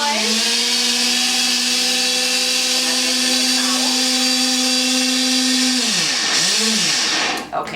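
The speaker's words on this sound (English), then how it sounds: "what I'm gonna do is get this blended before I add the rest of my ingredients" A kitchen blender whirs loudly and steadily while blending eggs for a cream cheese flan, then winds down and stops near the end.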